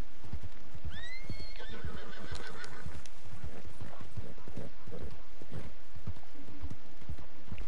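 A horse in the Western game Red Dead Redemption whinnies once near the start with a rising-falling call, then clip-clop hoofbeats continue steadily over rough ground through the rest of the clip.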